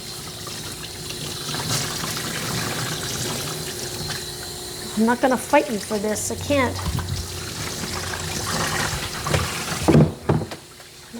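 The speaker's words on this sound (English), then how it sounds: "Get all of that water out again, and I'm rubbing to get a lot of that soap out also." Water rinsing soap out of a Coton de Tulear's coat during a grooming bath, a steady splashing wash under a person talking to the dog, with brief rubbing and handling noises.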